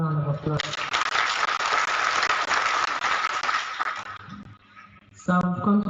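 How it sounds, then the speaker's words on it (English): A church audience applauds the Reverend at a Padre hour gathering, steady dense clapping filling the room for several seconds before fading, with a voice speaking at the start and again at the end. "Once again, shall we give the Reverend another round of applause?"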